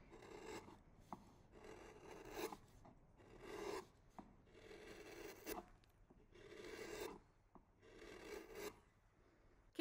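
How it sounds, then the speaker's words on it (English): A woodcarving gouge makes slicing cuts through timber, heard as a steady series of close, rasping strokes about a second or two apart with no talking. "when you're cutting well with a slicing cut, it will sound"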